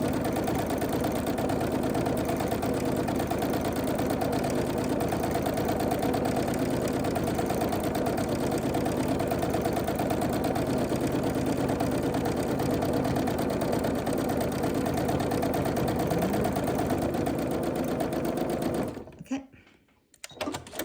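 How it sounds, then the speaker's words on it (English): A sewing machine runs in long continuous bursts while thread painting a pumpkin, stitching down and back in a steady, fast mechanical chatter close by for nearly twenty seconds before stopping abruptly near the end. "and then we're just going to start sewing"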